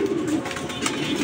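Club pigeons in a loft give soft, throaty coos in a short close burst, a low rolling murmur with no voices over it.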